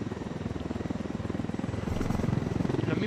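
Helicopter rotor from the Ghost Recon video game, a steady rapid chopping thrum that grows slightly louder partway through, running continuously without talk.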